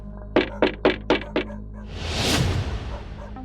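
Five sharp knocks on a door at night, evenly spaced and close, followed by a low rising whoosh of eerie ambience, with no voices.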